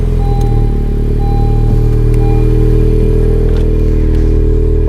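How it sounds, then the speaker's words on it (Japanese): A Honda Civic Type R FK7 with an HKS exhaust sits idling just after starting, warming up with a loud, steady, close engine drone and no revving. "ちょっとエンジンかけてみますよ。"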